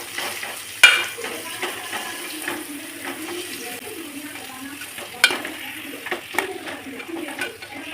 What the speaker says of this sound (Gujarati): હવે બરાબર હલાવીશું.